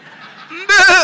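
A voice mimics the bleat of a father goat, a short quavering cry that starts softly and swells into a loud, wavering bleat near the end.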